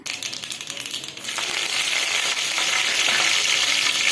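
Mustard seeds, cumin and curry leaves dropped into hot oil for capsicum paneer rice: a crackling, popping rush of frying that swells into a loud, dense, continuous sizzle heard up close.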